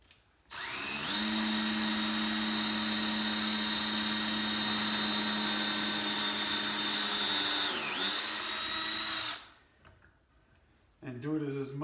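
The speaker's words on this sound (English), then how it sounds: "Put on a drill bit to drill further using the guide that we already started." A power drill bores into wood for a hutch, whining steadily and loudly for about nine seconds, dipping briefly in speed near the end before stopping, after which a voice speaks.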